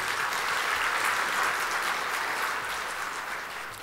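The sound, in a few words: church congregation applause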